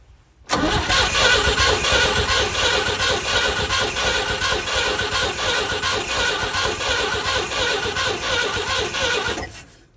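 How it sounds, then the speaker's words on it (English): A 1963 Chevrolet C10 pickup engine cranks over continuously for about nine seconds, a loud, steady, rhythmic starter churn that begins and stops abruptly, close up, with no voices. "I'm going to crank the engine over and see if the valves are all moving correctly."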